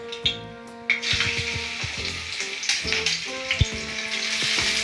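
Onion paste hits hot oil with dried red chillies, a close, crackling sizzle with a few sharp spits and stirring clinks, building into a steady fry.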